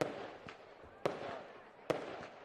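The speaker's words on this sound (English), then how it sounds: "we've got some firecrackers going off" Firecrackers go off at a rugby league ground at Anzac Park in Gundagai during a festival-style match day, three sharp, loud cracks spaced about a second apart, each trailing off into a brief rumble, with faint talk underneath.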